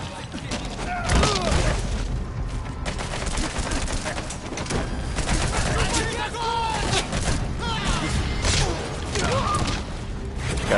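Repeated bursts of gunfire and booms from the video game Metal Gear Solid 5, loud and continuous over about ten seconds of chaotic firefight.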